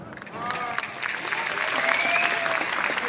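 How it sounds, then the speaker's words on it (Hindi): Steady audience applause from a large gathering, dense and continuous, swelling slightly over a few seconds with no voices on top. "इन लोगों की तालियों से इस बात का एहसास होता है"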